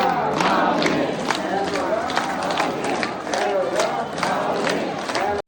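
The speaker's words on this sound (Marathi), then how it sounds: "तिथे भरपूर वारकरी जमले होते आणि त्यांचा एकच जयघोष चालू होता." A large crowd of Warkari pilgrims chanting together in a loud, rhythmic roar, voices overlapping densely, with bursts of shouting and continuous background commotion.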